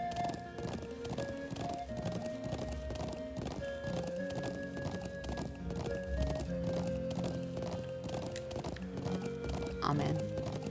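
A horse gallops in the Trails of Cold Steel video game, with steady rapid hoofbeats under layered game music, plus a brief whinny near the end.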